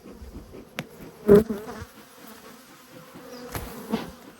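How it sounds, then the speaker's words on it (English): Honey bees pour out of a crowded hive during an apiary inspection, a soft, continuous buzzing hum close by, with a few sharper buzzes as individual bees pass near. "They are boiling out of this hive already."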